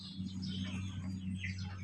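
Small birds chirping and tweeting, faint and somewhat distant over a steady low hum, with several brief calls scattered through the moment.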